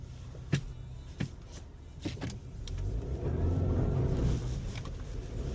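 A 2022 Subaru Outback with all-wheel drive rolls through deep snow, a low steady engine and tyre rumble swelling in the second half, with a few sharp knocks early on; fairly quiet overall.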